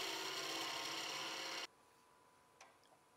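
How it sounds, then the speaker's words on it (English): A lathe scraper hollows the base of a Banksia seed pod box, a steady close grinding rasp of the cutting that stops abruptly about halfway, leaving a quiet hum and a faint tap. "So now the base is chucked up and I'm hollowing that out. I'm starting with a scraper."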